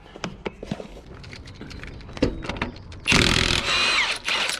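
Socket wrench breaking loose the crank pulley bolt on a junkyard Honda CRX with a B16A engine, a few sharp clicks and knocks up close, then a loud, dense burst of ratcheting and metallic scraping.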